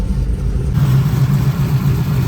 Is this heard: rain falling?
no